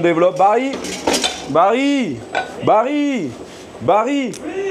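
Metal pans and utensils clatter and clink in short bursts in a busy kitchen while voices talk over them nearby.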